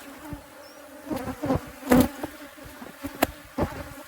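Honeybees buzz at a hive in South Africa, with several bees passing close to the microphone in rising and fading drones over a steady low hum of the colony.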